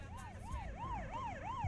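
An ambulance siren wails in a rising and falling yelp, repeating about every third of a second, fairly faint and distant over a low rumbling background.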